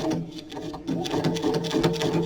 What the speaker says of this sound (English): I'm going to back stitch at the corner, kind of reinforce it a little bit